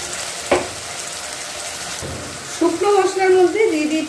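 A paste of ginger, garlic and coriander leaves hits a pan of fried onions and starts sizzling in oil, with a couple of soft clinks first and then a steady crackle over the last second and a half.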